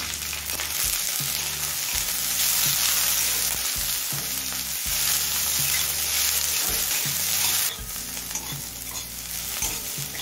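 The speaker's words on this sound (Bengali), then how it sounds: "পাঁচ 6 মিনিট সময় নিয়ে পেঁয়াজটা হালকা লাল করে ভেজে নিয়েছি।" Chopped onions, garlic and green chili fry in oil in a pan for a Bengali susuni greens dish, a steady loud sizzle with repeated stirring scrapes and clatters throughout, no voices.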